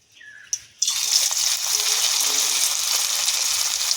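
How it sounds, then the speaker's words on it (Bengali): Chicken tikka kebabs are laid into hot oil one at a time and then fry with a steady, loud sizzle, after a soft clatter at the start. "এগুলো একটু ধিমে আঁচে ভাজবো।"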